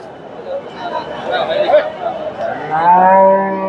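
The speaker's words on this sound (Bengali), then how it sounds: "ফ্রিজিয়ান সারগুলো" A Friesian cow lowing nearby, ending in a long drawn moo, while people chatter in the background of a busy livestock market in Bogura, Bangladesh.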